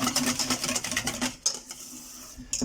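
Chocolate ganache is stirred in a bowl, with rapid rhythmic scraping and light clinking of a utensil against the sides, close and fairly loud, then slowing to softer strokes before a final scrape.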